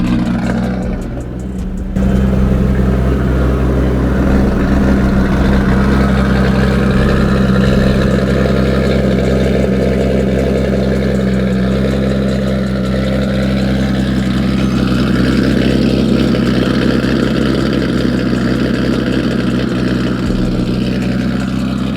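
A big-turbo Infiniti G35 engine runs steadily up close, a loud, low, continuous drone that holds throughout after a brief quieter start, with no talking.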